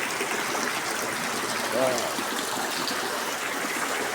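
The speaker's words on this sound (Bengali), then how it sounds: "অনেক সুন্দর বৃষ্টি।" Steady rain pours down in an even, dense wash that runs without a break, with a short vocal sound briefly rising over it midway.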